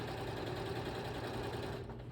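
A sewing machine runs steadily, stitching the corners of a gift bag's fabric lining with a close, continuous whirring hum that eases off near the end.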